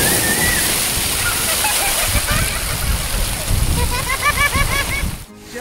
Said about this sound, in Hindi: और आगे आया पानी आ रहा है ऊपर से।